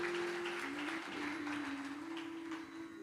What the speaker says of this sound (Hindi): जोरदार तालियां ने ली।